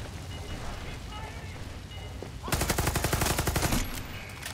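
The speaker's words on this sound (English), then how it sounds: "This SMG's sick, man. It just wrecks people." SMG gunfire in Far Cry 6, a loud rapid-fire burst of evenly spaced shots lasting over a second, following a stretch of game ambience and low background sound.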